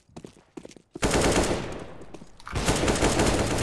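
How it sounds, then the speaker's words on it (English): Rapid automatic gunfire from CS:GO erupts after a few sparse shots, a loud sustained burst that eases briefly, then a second heavy volley of continuous fire with dense reverberant crackle. "We shouldn't have shot."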